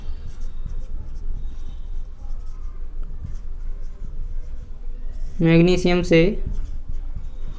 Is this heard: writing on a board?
yes